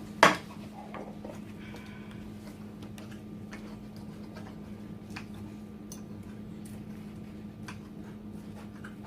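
Scrambled eggs being cut up in a pan with a utensil, a sharp knock at the start followed by faint, irregular light taps and scrapes over a low steady hum.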